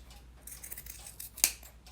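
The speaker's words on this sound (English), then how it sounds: "you're just going to take your fabric scissors and you're just going to cut" Fabric scissors snip through a sock, with a soft rustle of cloth and one crisp, sharp snip standing out near and clear.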